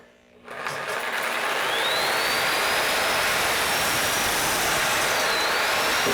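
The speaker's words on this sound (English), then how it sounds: "Now I'm going to use the Sawzall with a metal blade." A Sawzall reciprocating saw fitted with a metal blade cuts through pipe during a bathroom vanity install, making a loud, steady, close buzzing whine that holds for about five seconds after a brief start.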